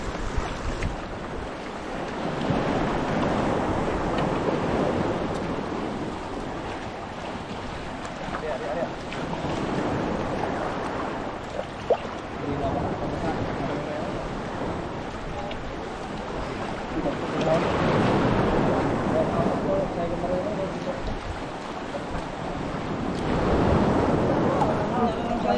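Ocean waves wash around a boat at sea, swelling and fading in slow surges beneath steady wind buffeting the microphone, with voices talking at times.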